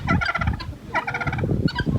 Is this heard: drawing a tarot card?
no